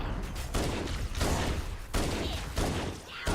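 Assault rifle fire in Halo CE comes in repeated loud bursts, each lasting roughly half a second to a second, separated by short gaps of quieter game noise.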